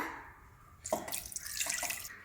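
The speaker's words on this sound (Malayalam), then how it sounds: "ഒരു മിക്സിയിലോട്ട് ഒരു കപ്പ് കരിക്കിൻ വെള്ളം ഒഴിച്ചു കൊടുക്കുകയാണ്" Tender coconut water is poured from a cup into a mixer grinder jar, a close splashing trickle that starts partway in and runs steadily to the end.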